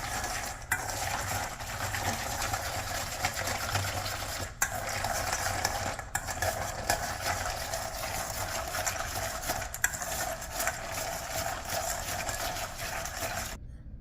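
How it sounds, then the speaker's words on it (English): Pecan halves being stirred with an egg white in a bowl, a steady wet scraping and clicking of nuts tumbling against the bowl and utensil, continuous and close for the full stretch with a few sharper knocks. "we're just going to mix that with the pecan halves"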